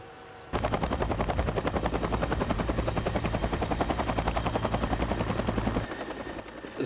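Firefighting helicopters from the Republika Srpska helicopter service and Serbian police unit fly over a wildfire near Višegrad, a loud, close rotor chop thumping rapidly and evenly before easing off, with no voices.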